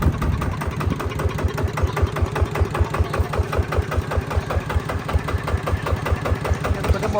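A Golden Bow 140 engine idles steadily close by, its low, even firing pulses thumping in a regular rhythm with no one talking over it.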